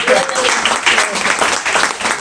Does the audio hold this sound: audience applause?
yes